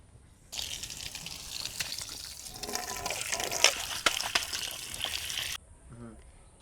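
Tap water runs steadily over raw chicken pieces being rinsed, a close, continuous splashing gush with small drips and knocks as the pieces are handled, stopping near the end.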